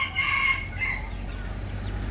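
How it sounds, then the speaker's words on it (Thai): A bantam rooster, out with its chicks, gives a short crowing call close by, followed by quieter clucking over low rumbling background noise. "ไก่ กับลูกน้อยนะครับ ไก่แจ้กับลูกน้อย"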